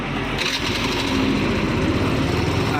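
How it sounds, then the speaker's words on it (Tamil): Vehicle engine already running, a steady, buzzy close idle with a slight rise in intensity partway through, no talk. "இப்போ நம்ம வந்து வண்டி ஸ்டார்ட் பண்ணி பார்க்க போகிறோம்"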